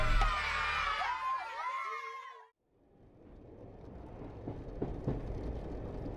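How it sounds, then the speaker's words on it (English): A moving train used as a sound effect: busy clattering and voices fade to a brief silence, then a steady rumble of rolling rail cars builds with occasional clanks, heard without nearby talk. "We've arrived somewhere, and we're moving. Are we in a train?"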